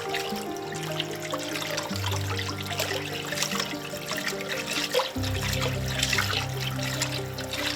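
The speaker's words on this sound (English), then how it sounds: "And I like to stir it while I'm adding the water." Water pours steadily into a big shrimp boil pot for a Cajun seafood boil, a continuous trickling, splashing stream whose pitch shifts as the pot fills, with no talk over it.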